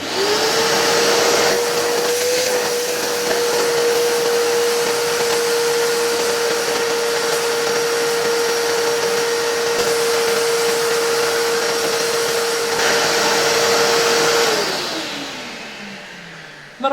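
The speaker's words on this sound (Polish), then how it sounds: "O, już mam tu odkurzacz." A vacuum cleaner running while cleaning an old Dr. Burg Klimarex-Kamin fan heater from Vienna, a loud steady whine with broad airy rush that holds for many seconds, then winds down as the motor is switched off.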